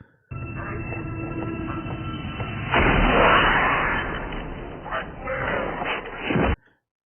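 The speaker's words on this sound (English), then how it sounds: "Bruce Willis enters the room and bang!" Gunfire in a tense standoff scene from the science-fiction film The Fifth Element: a sudden loud blast erupts over a low rumbling background, followed by a sustained roar and further bursts before an abrupt cutoff.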